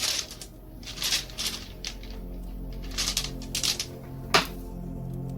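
Divination dice clatter and tumble across a surface in a series of bursty rattles, with a final sharp knock near the end, close and loud with no talking.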